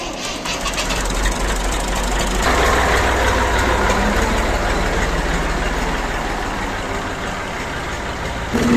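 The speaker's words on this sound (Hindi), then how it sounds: "ट्रैक्टर जो है वो स्टार्ट कर रहे हैं" A farm tractor engine cranks and catches, then settles into a loud, steady, knocking idle close by, with no talk over it.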